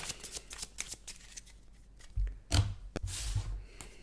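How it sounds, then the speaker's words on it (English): Playing cards for the Onirim card game get a quick, close-up shuffle: a run of crisp, papery riffles and taps that builds into louder rapid bursts near the end, with no talking. "Quick shuffle."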